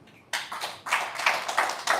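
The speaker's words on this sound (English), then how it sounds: "Let's clap for him." An audience claps for Hassan: a short burst of sharp, uneven hand claps from a small crowd, fairly near, starting after a brief quiet moment.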